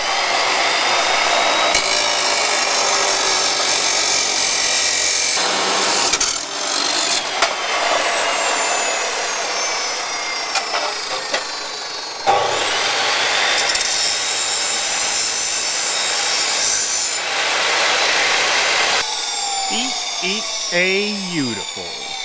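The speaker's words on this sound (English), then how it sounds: "I'm pretty sure a brand new blade goes through 4-inch tube." A fresh saw blade cuts through a 4-inch metal intake pipe in a garage, giving a loud, sustained, harsh rasp in two long passes with short breaks, and a brief burst of talk at the end.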